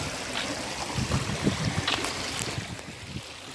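Small river flowing through a farm estate, a continuous close rushing wash of water with soft splashing bursts and no voices.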